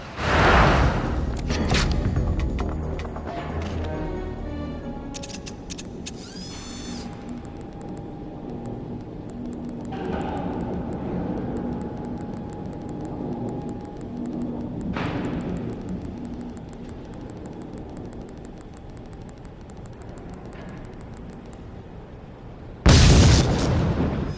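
Rocket launcher fire and explosions in the 007: Everything or Nothing video game, a loud booming blast at the start, rumbling game ambience through the middle and another sharp burst near the end.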